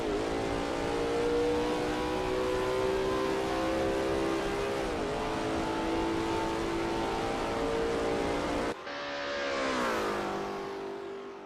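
A Lola T70 MkII Spyder race car on the Kyalami circuit in a racing game, its engine droning steadily at high revs, dipping briefly through a bend, then cutting to a new view as the note climbs again under acceleration.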